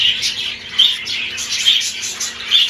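Small birds chirping during breeding season, a bright run of quick, high tweets repeating in short bursts, close and fairly loud with no talking.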